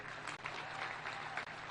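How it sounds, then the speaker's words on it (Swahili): A crowd at a political rally in Meru applauds in sustained clapping, heard faint and distant with a couple of brief dips before it carries on. "apigiwe makofi"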